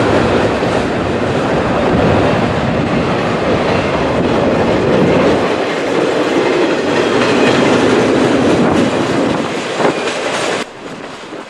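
A freight train led by YN2-painted locomotives rolls past close and loud, a dense rumble with rhythmic clickety-clack of wheels on rail joints, thinning out toward the end.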